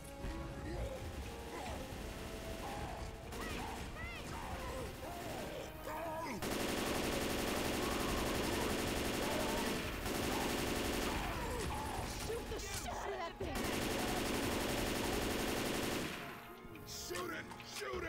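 Video game gunfire rattles in dense automatic bursts and scattered single shots, loud and near, mixed with crashes and game noise while voices talk over the action.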